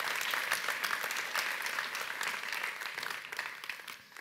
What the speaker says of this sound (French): Merci de les applaudir chaleureusement.